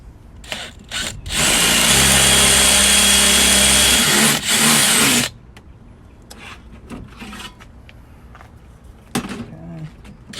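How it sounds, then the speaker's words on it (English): Power tool grinding holes through metal while installing a B&M Shift Improver Kit in a TH350 transmission: one loud, steady whining burst lasting a few seconds, then scattered clanks and handling noises. "we'll go ahead and use our tools and grind some holes through this stuff."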